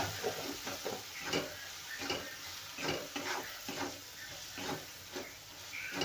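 Fenugreek and ridge gourd mixed with red chilli powder are stirred in a pan, a spoon scraping in regular strokes over a constant close sizzle, no voices.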